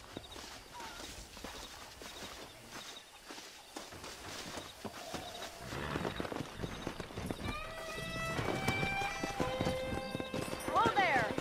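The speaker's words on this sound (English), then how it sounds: "let's see if we can't wrangle some horses" Horses from the video game Red Dead Redemption, hooves clip-clopping with an occasional whinny, building from quieter footfalls to louder trotting near the end, with talk over much of it.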